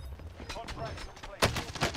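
DMR rifle shots in Call of Duty Warzone, a quick run of sharp reports with a louder burst near the end, other game sounds mixed in.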